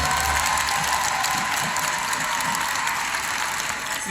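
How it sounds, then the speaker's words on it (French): A hall audience at a film conference applauds the film's distributor with steady, dense clapping that holds evenly throughout. "Vous pouvez les applaudir très très fort,"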